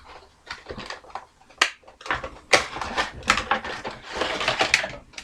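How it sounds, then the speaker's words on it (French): Star Wars Funko Pop figures are unboxed with close, irregular bursts of cardboard and plastic rustling, tearing and tapping clatter that come thick and uneven under no talk. "Je vais les déballer tout de suite."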